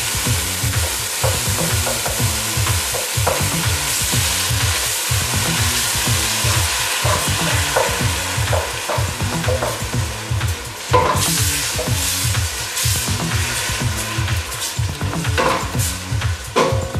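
Tomatoes frying in a pot of Cape Malay style lamb knuckle curry, loud continuous sizzling with a regular scraping of stirring strokes against the pot throughout, close up and with no voices.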